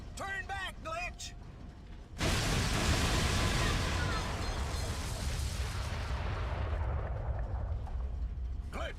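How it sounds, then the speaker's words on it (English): A loud grenade blast in the Metal Arms game erupts after brief chirpy robotic voice sounds, then rumbles on with a long, dense roar and debris that slowly fade. "Grenade!"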